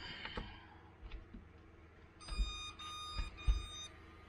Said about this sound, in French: 3 bips pour dire que c'est une 3S.